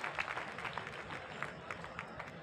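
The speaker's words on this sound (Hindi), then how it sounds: "उनके सम्मान में जोरदार तालियां बजाइए।" An audience at a Kota Dussehra poetry gathering breaks into steady, continuous applause. The clapping sounds moderately distant and fills the whole moment without any talk over it.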